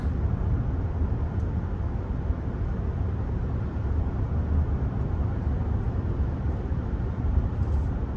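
A 2024 Mazda CX-90 Turbo Premium Plus accelerates through a turn, a steady, dense engine and road rumble that stays loud and even for the whole stretch, with no talk over it.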